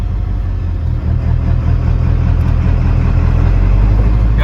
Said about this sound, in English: let's go for a drive real quick